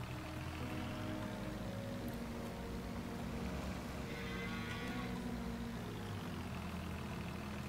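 A cow moos in a farming video game set in Thüringen, a drawn-out lowing call over a steady engine-like hum, with no talking.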